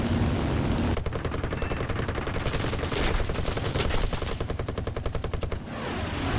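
The forward guns of a Beaufort Mk VIII gunship fire in War Thunder, a rapid, steady machine-gun burst of about four and a half seconds over constant engine drone, then the firing cuts off.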